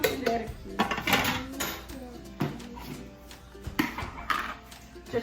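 A metal spoon clinks and scrapes around a bowl of chocolate cake batter in a home kitchen, giving repeated close ringing taps and knocks, with people talking softly in between.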